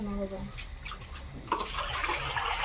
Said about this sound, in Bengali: ওই যে দেখেন পাতাগুলো ভালোভাবে ধুয়ে নিতেছি